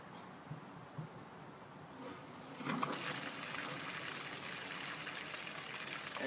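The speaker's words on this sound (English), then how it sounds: "And water comes out." Water gushes steadily from the opened valve of a Philter Industries water filter, a soft hiss rising to a fuller, continuous rushing flow that stays fairly close and even with no talk over it.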